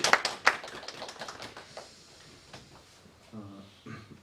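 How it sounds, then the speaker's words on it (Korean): A church congregation gives a brief round of clapping at a Sunday service, sharp close claps that fade within a second or two, leaving faint rustling and movement behind them. "축복의 박수 하실까요?"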